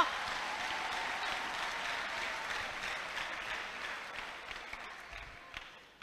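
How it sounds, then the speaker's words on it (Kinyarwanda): A church congregation applauds for God during an evangelist's sermon, with dense, sustained clapping from many hands that slowly thins and fades toward the end. "komera Imana amashyi"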